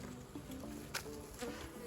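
Honeybees buzzing in a small hive colony, a soft steady hum of many wings with a few louder individual bees flying close past, quiet and uninterrupted by talk.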